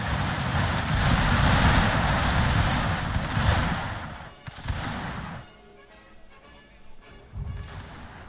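Dense crackling volleys of musket gunfire ring out in a Shogun 2 Total War: Fall of the Samurai battle, loud and sustained at first, then thinning to scattered distant shots.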